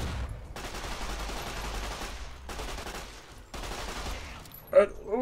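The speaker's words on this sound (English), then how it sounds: "I'm going to take the submachine gun out." Submachine gun firing in Fallout New Vegas, three sustained automatic bursts with short gaps between them, loud and close, followed by a brief sharper burst at the end.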